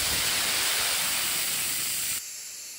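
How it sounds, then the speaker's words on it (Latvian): Compressed air hisses out of the receiver of a 4PRO AIR 20S oil-free compressor through its release valve, a loud, steady broadband rush that drops to a lower level near the end, with no voices. "Tātad, kā jau minēju, ir vārsts, lai izlaistu gaisu."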